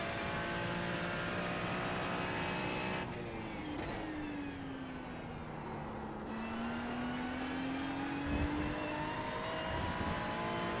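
A Ferrari 296 race car in a sim-racing session at Watkins Glen, heard as a loud, sustained engine drone whose pitch dips and climbs through shifts and corners, with no talking over it.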